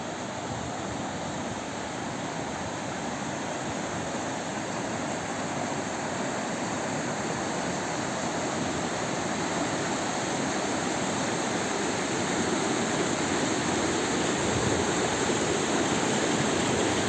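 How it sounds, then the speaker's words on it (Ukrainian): A mountain river in an autumn Carpathian forest rushes past nearby, a loud, unbroken roar of flowing water that holds steady throughout and swells slightly toward the end. "Треба перейти річку, таку маю перешкоду."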